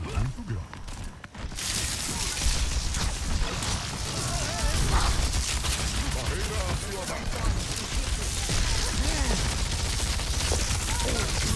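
Gunfire from the D.va mech in Overwatch 2 during a ranked match, a dense, steady stream of rapid shots with explosions and game effects mixed in, continuous and loud after a brief quiet opening.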